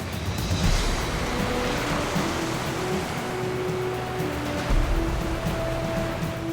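Whitewater of the Colorado River crashing through Lava Falls rapids in the Grand Canyon, a loud, steady broadband roar with faint engine-like hum beneath, continuous and close, with no talking.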